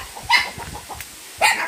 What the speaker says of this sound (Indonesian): jadi di sini banyak guguk ya. Banyak guguk euy.